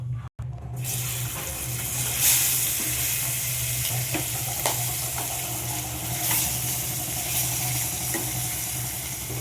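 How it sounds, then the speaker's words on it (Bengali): Surmai fish fries in oil with a constant loud hissing sizzle and occasional faint clicks, after a brief quiet start. "এবার বাকি মাছগুলো আমি একইভাবে ভেজে নেব।"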